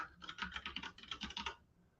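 Quick bursts of typing on a computer keyboard while writing Markdown syntax in a code editor, a close, rapid run of clicky keystrokes that stops abruptly, with no talk.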